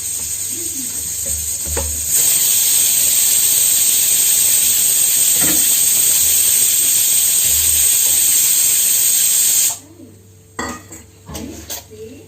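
A kitchen pressure cooker lets out a loud, sustained steam whistle and hiss for several seconds, then cuts off, leaving faint clinks of pots and utensils nearby.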